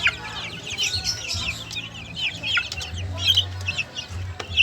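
Sebright chickens in a small backyard coop cluck steadily while being fed, with soft overlapping clucks and a few chirps, close and moderately loud, and no talking.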